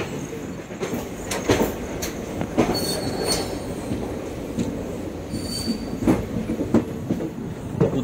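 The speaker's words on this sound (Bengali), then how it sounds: "এখন ট্রেন ছাড়ছে হচ্ছে খুর্দা রোড জংশন" A special express train pulls out of Khurda Road junction in India, its wheels squealing and clattering steadily over the rails at close range for the whole stretch, with faint talk underneath.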